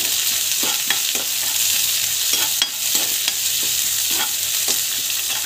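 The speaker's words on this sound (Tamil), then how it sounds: "ஸோ வெங்காயம் அப்புறம் மிளகாய் ஸோ போட்டு நல்லா வந்து வதக்கிக்கோங்க" Onions and chilies frying in hot oil with mustard seeds and cumin for street-food sambar, a steady close sizzle broken by regular scraping strokes of a stirring spoon.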